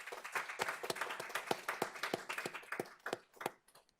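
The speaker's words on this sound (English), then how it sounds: "And we could give Howard a round of applause, please" Scattered applause at a school board of trustees workshop, a small group clapping with distinct separate claps, fairly faint and thinning out over a few seconds.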